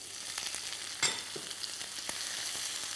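Onions frying in a pan and stirred with a wooden spatula: a steady close hiss of sizzling with scattered scraping clicks and one sharper knock partway through.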